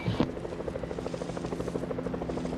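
A helicopter in Fortnite, a Vietnam War creative map, throbs with steady rotor chop and engine drone, loud and close, continuous throughout.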